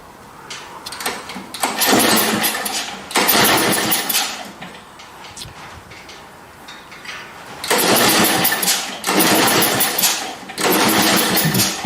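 A neglected snowblower engine cold-starting after choke and prime: repeated loud bursts of cranking and sputtering revving, each a second or two long, separated by brief quieter gaps, the sequence recurring several times close to the mic.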